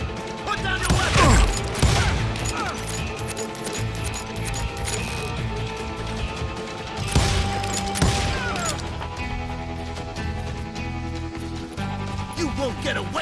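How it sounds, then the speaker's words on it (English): Gunfire in the Western shooter Call of Juarez Gunslinger sounds as loud, sharp shots and clattering bursts. Two heavier volleys stand out among scattered cracks, with voices talking over the action. "They're shooting"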